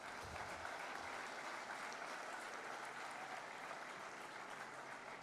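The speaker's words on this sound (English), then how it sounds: "You can applaud yourself for a while." Graduates at a university convocation ceremony applaud steadily, a dense, even wash of clapping from a large seated crowd that holds at a constant level for about five seconds, with no speech over it.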